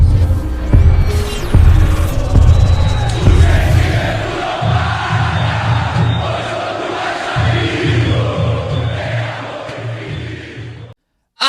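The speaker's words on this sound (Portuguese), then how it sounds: "solta a vinheta" Loud channel intro jingle for a Vasco da Gama fan channel, roaring crowd chanting and cheering with pounding low throb underneath, dense and continuous for about eleven seconds before cutting off abruptly.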